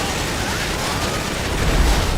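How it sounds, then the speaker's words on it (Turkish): Explosion in the GTA V video game, a noisy broadband roar with a heavier low boom swelling near the end, loud and sustained over about two seconds. "Evet patlattık."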